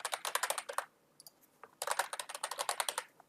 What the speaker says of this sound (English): Now you want to type in your PC administrator username and password.